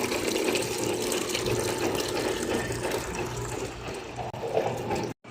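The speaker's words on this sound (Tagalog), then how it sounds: "Currently it's cleaning. So the water comes out." Water rushes steadily out of a Gongly ice cream machine during its cleaning cycle, a loud continuous gushing flow that cuts off abruptly near the end.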